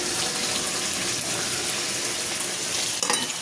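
Water poured into a hot pan of braised chicken, giving a loud, continuous hissing sizzle that holds steady throughout with a brief burst near the end and no talking.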